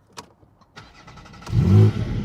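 A Porsche Cayman GTS 4.0-litre flat-six engine cranks with a few ticking clicks, then catches and rises into a deep, throaty rev that holds close and loud.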